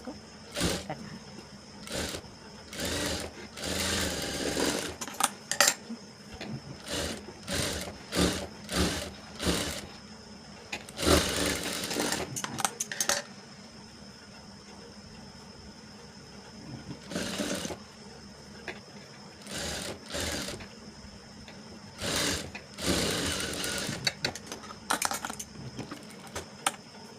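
Sewing machine stitching the marked seam of a princess cut blouse, running in repeated short bursts with pauses between, fairly close and moderate in level, with no talk over it.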